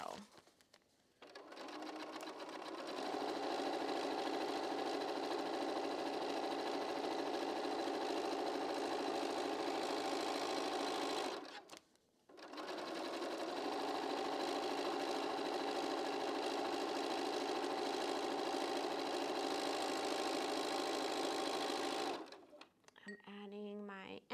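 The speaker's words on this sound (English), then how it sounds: "I've just got 3 more of these guys to sew." A sewing machine runs in two long steady bursts stitching quilt block pieces, each lasting roughly ten seconds with a brief pause between, loud and close, ending with a few clicks.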